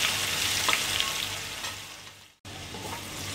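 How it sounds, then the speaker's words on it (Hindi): Twelve finely chopped garlic cloves sizzle and crackle in hot oil over a low flame, a steady close frying hiss with a short break before it resumes. "तेल में अब 12 कलियां लहसुन की बारीक बारीक चॉप की हुई है ये ऐड कर देंगे"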